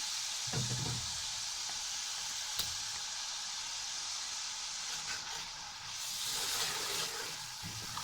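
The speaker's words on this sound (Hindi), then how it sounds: "इस टाइम हमने फ्लेम को किया मीडियम टू लो और हम मसाले के साथ इसको अच्छे से हम भूनेंगे" Matar pulao sizzles in a pan as it fries with spices and pickle over medium-low flame, giving a steady hiss with a few stirring clinks and scrapes.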